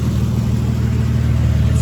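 A Barra-engined Mazda RX4 idles quietly through a single straight-through muffler and catalytic converter, making a steady, low, even rumble with no revving or pauses.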